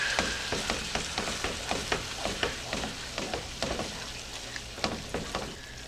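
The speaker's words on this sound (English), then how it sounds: "Let's go ahead and mix this all together." Ground beef mixed with homemade taco seasoning in a hot pan, a steady sizzle with rhythmic scraping stirs repeating about twice a second, close and alone.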